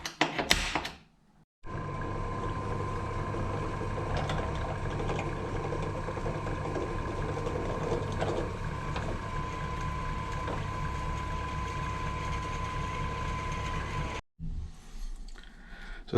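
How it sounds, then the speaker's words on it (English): A drill bores holes in a metal inlet manifold adapter plate for a Toyota Starlet. Its steady mechanical whir and grinding runs for about twelve seconds, close and unbroken, with short stops at each end. "Drilled out all the holes I need to."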